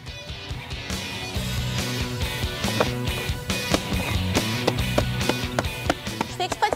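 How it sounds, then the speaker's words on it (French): A bottle is struck on purpose, again and again, while a horse is being accustomed to noises for polo training. The irregular sharp taps and crinkling knocks come close by. "Je fais exprès de faire du bruit, de vraiment taper dans ma bouteille pour que Nemo voit qu'il peut se passer des"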